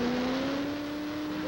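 A monster truck engine drones loudly and steadily with a rising tonal whine, held close and continuous for a brief moment, at a 1989 USHRA event in Hartford.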